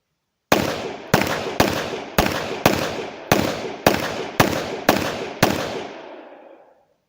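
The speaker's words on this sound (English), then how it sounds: "we're going to see how he gets on with this at 20 metres, firing at rapid fire with 10 rounds" Ten rapid shots from a Glock 17 pistol fired at a 20-metre target, sharp evenly spaced cracks about half a second apart, each with a short echoing tail, the last one fading out slowly.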